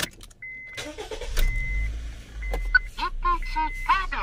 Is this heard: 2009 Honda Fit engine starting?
yes